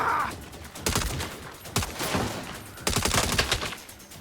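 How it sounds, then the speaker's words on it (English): Bursts of rapid gunfire in the open-world action game Saints Row, three separate volleys of sharp repeated shots, loud and close, each rattling for about a second before a short pause. "So... I guess maybe I should just stay up here and shoot him."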